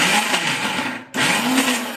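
A mixer grinder whirs loudly in two bursts with a brief stop between them, a steady high-pitched motor drone grinding a thick cabbage chutney mixture without water.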